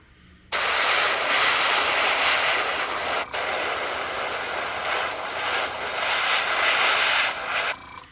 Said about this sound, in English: So here I am, closer than I would normally be, shooting a little bit of paint here